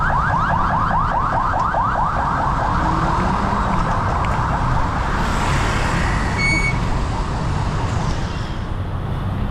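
A police car siren wails loudly and steadily close by, a fast rising and falling warble throughout, with street traffic noise underneath.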